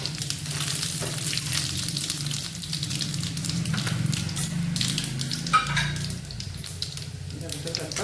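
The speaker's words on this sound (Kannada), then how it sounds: "ಈಗ ಎಣ್ಣೆ ಕಾದಿದೆ, ಸಾಸಿವೆ ಹಾಕ್ಕೊತಾ ಇದ್ದೀನಿ. ಒಗ್ಗರಣೆಗೆ ಸಾಸಿವೆ, ಜೀರಿಗೆ, ಕಡಲೆಬೇಳೆ." Mustard seeds, cumin and chana dal sizzle in hot oil for a tempering, a steady close crackling hiss that runs throughout with one sharper pop partway through.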